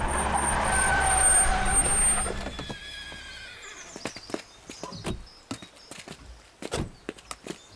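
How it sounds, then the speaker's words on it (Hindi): Several horses stopped by a roadside, with a busy engine-like noise at first that falls away to leave irregular clip-clopping hooves and a short whinny, close and distinct with no talk. "क्या रे, यहाँ इतने सारे घोड़े क्यों हैं?"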